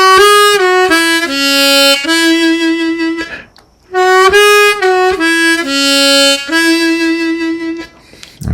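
A harmonica phrase from the old-time tune "Going up to Hamburg", mixing bent draw notes with blow notes and played twice with a short gap between passes, close, bright and reedy, with no voice.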